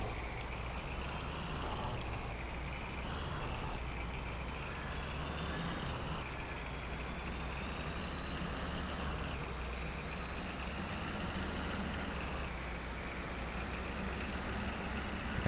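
A truck engine idles and drones steadily in Farming Simulator 22, a low, even rumble with a faint higher whine on top, unchanging and moderately quiet for the whole stretch.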